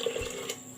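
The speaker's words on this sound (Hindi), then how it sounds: "ये मैंने 3 कप पानी यूज़ किया है 2 कप चावल में।" Water being poured into rice for matar pulao, a short liquid splash and trickle, brief and moderately near, with no talk.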